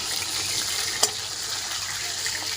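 Steady hissing sizzle of snakehead fish frying in a pan, with one brief clink partway through.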